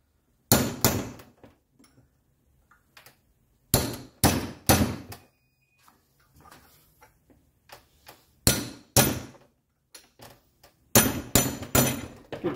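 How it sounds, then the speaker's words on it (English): A chisel hammered against the sides of a suspension seal on a 1985 Mercedes 300CD, sharp metallic clangs in rapid groups of three to five strikes, separated by pauses, close and loud with no talk. "Use a chisel and chisel in the sides of the seal,"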